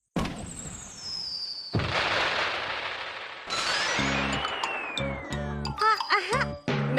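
Fireworks whooshing up and bursting in a Doraemon cartoon, with a rising whistle and a series of crackling pops and sparkling bangs that grow busier and louder toward the end.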